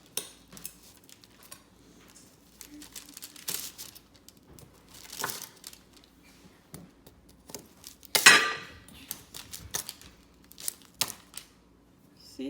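A knife cutting through hardened konkada peanut brittle into bar shapes, with scattered sharp cracks, snaps and clinks at irregular intervals and one louder crunch partway through, fairly quiet and close.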